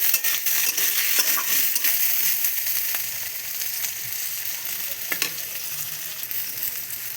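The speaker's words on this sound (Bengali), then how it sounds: "আদা বাটা লঙ্কা আর টমেটো কষিয়ে নেব" Ginger paste, chili and tomato sautéing in a pan for ghugni, a steady close sizzle with stirring scrapes and occasional clinks running throughout without any talk.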